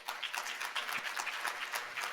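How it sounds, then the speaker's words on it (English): Audience applause greeting the Chief Sustainability Officer of Sprouts Farmers Markets at a corporate event, a short, fairly faint patch of dense clapping from a crowd. "Please give him a round of applause."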